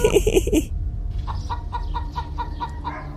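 In a cartoon, a burst of loud, close clucking is followed by a series of softer, evenly spaced clucks and chirps from chickens nearby.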